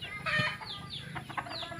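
Chickens clucking in a short burst of calls, heard fairly close at a rural home in Bohol, Philippines, over steady outdoor background noise.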